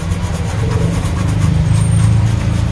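A brush scrubs steadily at corrosion on a car amplifier circuit board, a loud, continuous rough rubbing that runs on without pause and with no talk.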